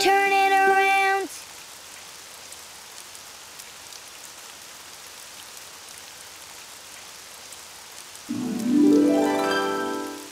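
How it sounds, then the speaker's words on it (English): Steady rain falls outside in an animated children's show, an even hiss that lasts for several seconds. Short musical tones are heard at the start and again at the end. "Oh, it's raining outside."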